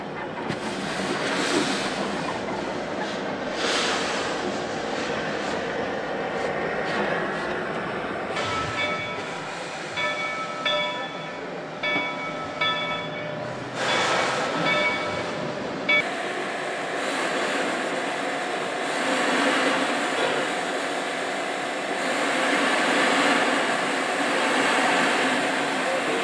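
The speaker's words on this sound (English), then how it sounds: "The train is assembled now" A train runs on its rails at a Victorian gathering, a steady rolling rumble and rattle that holds for the whole stretch, with brief brighter metallic squeals partway through and no talk.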